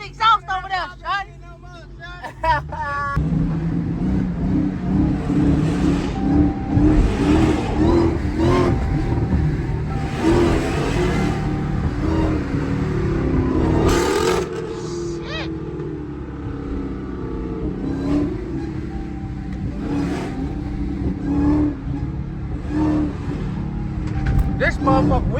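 Jeep Trackhawk exhaust roars as it accelerates late at night, a loud, steady engine drone rising and falling in pitch over about twenty seconds, with voices chattering over it.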